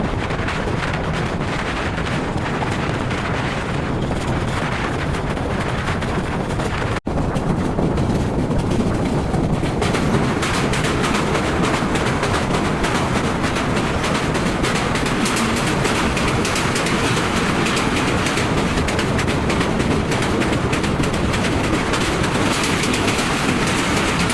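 The Parabat Express runs fast past Pubail railway station, a loud, unbroken roar of wheels on rails mixed with heavy wind buffeting, steady for the whole stretch.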